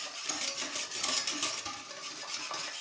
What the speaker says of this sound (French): On fouette pas, on fait pas comme ça. On tournicote, on mélange.